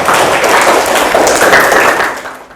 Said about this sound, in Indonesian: tepuk tangan untuk Barka